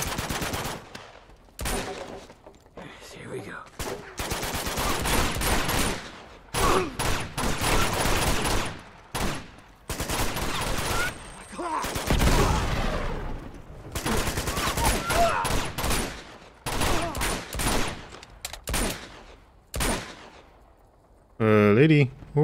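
Rapid bursts of automatic gunfire and scattered single shots in the video game Uncharted 2: Among Thieves, loud and close, coming in dense, repeated volleys with brief gaps and a voice faintly underneath.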